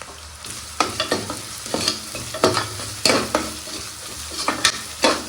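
Kashmiri chili powder fries in oil with ginger garlic for bottle gourd biryani, bringing a loud, close sizzle broken by repeated sharp scrapes of the spoon stirring across the pan.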